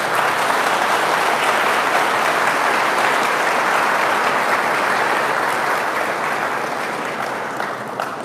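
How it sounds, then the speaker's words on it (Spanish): A church congregation breaks into strong, continuous applause, loud and even throughout, easing off slightly toward the end. "lo recibimos con un fuerte aplauso"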